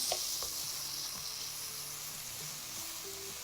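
Onions frying in a pan with mashed tomatoes for Lahori paya give a steady, close sizzle that hisses on without pause, with no talking.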